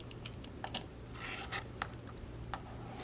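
Fabric cut with a rotary cutter along a 2.5 inch ruler for a quilt block: faint short scratchy strokes and ticks over a low steady hum, quiet and close.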